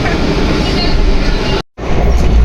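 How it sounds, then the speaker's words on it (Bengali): A moving passenger train bound for Shantiniketan, heard from inside a carriage as a loud, continuous rumble and rattle that drops out for a split second and then resumes. "ট্রেনে উঠলাম।"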